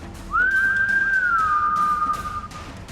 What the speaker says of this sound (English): I extend my left hand, make the devil sign, and whistle to him.